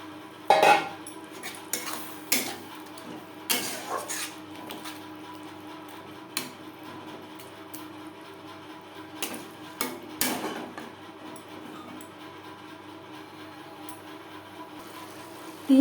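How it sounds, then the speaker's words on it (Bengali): Ground spices stirred and fried with masala in a pan for Bengali prawn malai curry, a spoon clinking and scraping against the pan in irregular bursts over a steady low background, with no speech. "মশলার সাথে গুঁড়ো মশলা বেশ ভালো করে মিক্সড করে দেবো"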